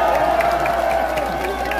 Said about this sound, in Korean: 박수 한번 크게 쳐드리세요